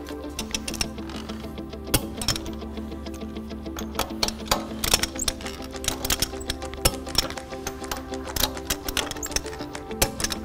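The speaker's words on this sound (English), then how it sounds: "When the torque wrench clicks, that's when you know you're at the right torque setting." A torque wrench tightens lug nuts on a Porsche wheel, producing a continuous stream of sharp clicks and ratcheting ticks, close and fairly loud, over a steady background hum.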